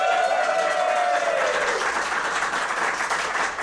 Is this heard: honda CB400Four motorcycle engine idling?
no